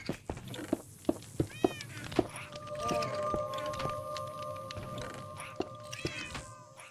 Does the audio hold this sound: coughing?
no